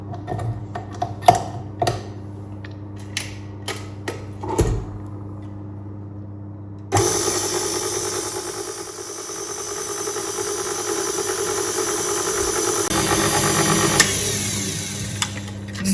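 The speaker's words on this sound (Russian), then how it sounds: "Взбиваем до бела." An electric mixer whipping eggs and sugar whirs steadily and loudly for about nine seconds, after a few sharp clicks and taps of handling.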